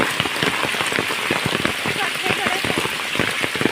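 Steady rain falls on a trek at Matheran, a dense and fairly loud patter of drops hitting surfaces nearby, continuous throughout.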